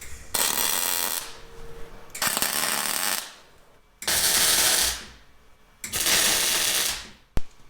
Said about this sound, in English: Lizzie, I'm gonna hold this while you weld it